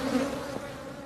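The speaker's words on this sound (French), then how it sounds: "À cette heure, les abeilles semblent un peu agressives." Close, steady droning buzz of agitated bees at mangrove hives, a constant humming tone lasting about a second.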